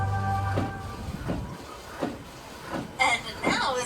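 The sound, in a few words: Universal Studios tour tram moving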